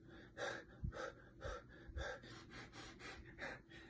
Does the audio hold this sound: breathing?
yes